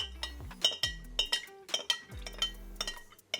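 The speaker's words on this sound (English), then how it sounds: "And last but not least, our whole milk. We're gonna stir it in nice and slow." A spoon clinks sharply and repeatedly against a glass while whole milk is stirred into a bourbon milk punch with lemon juice, a quick, bright, irregular series of clinks with no talking.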